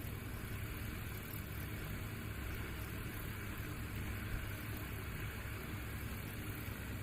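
A light aircraft engine idles on the line during practice at an Arklahoma airfield, a steady droning rumble with constant vibration that holds level and fairly close for the whole stretch, with no talk over it.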